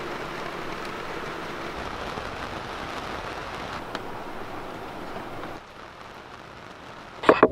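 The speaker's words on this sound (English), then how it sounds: "It's super rainy out today." Heavy rain pours down during a storm on a boat, a steady dense hiss that eases slightly near the end before a few sharp clattering knocks close by.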